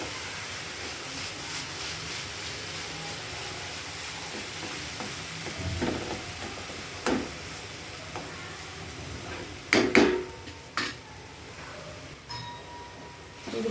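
Coconut burfi mixture is stirred in a pan with a steady soft scraping and faint sizzle, and a few sharper clinks of the spoon against the pan come near the end.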